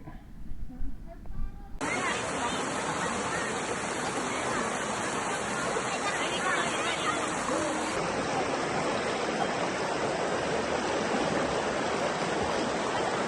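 A steady, loud rush of a river flowing at a farm resort fills the scene after a short moment of quieter background, continuing evenly throughout.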